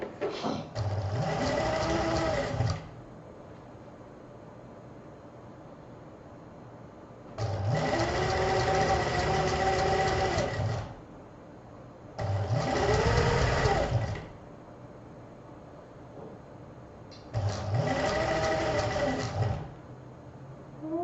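A sewing machine stitches patchwork fabric in four steady bursts of rapid mechanical whirring, each lasting a few seconds, separated by quiet pauses.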